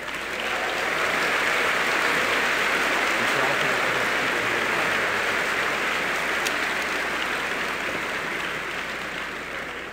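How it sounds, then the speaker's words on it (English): Cadets and guests at the Citadel give Senator Rand Paul sustained, dense applause that fills a large hall, a broad, even roar of clapping holding steady for the whole stretch before easing slightly at the end. "Please join me in one more round of applause for Senator Paul."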